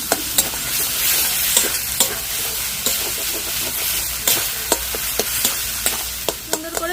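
Garam masala, Kashmiri chilli powder and ground coriander fry in a little oil while a spoon scrapes and taps the pan in uneven strokes over a steady close sizzle.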